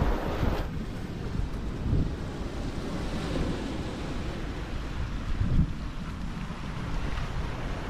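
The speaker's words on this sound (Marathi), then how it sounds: "आपल्याला हा समुद्र किनारा लागला." Sea waves wash onto the beach at Kodara Point near Shrivardhan, with gusting wind over the microphone and a steady roar that swells a couple of times.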